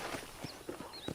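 Hoofbeats of a horse in Red Dead Redemption, four distinct clip-clop strikes spaced evenly over about a second, close and clear against a faint ambient background.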